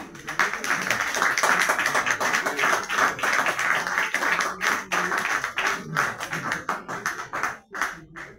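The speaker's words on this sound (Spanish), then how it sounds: "Un gran aplauso para el gran artista." An audience applauds an artist at a live show in Barranco, a dense burst of clapping that keeps up for several seconds and then thins into scattered claps toward the end.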